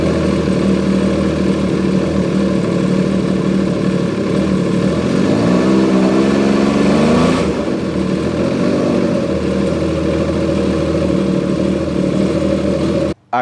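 The engine of a Yamaha Superjet TR-1 stand-up jet ski runs loud and close, holding a steady drone, then rising in a revving surge around the middle before settling back and cutting off abruptly at the end.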